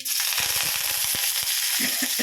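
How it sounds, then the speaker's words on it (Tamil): Hot oil sizzles steadily while mustard seeds pop and crackle in quick bursts, tempering for chutney. "இப்போ வேர்க்கு சட்னி தாளிக்க கடுகு போட்டுக்கிறேன்."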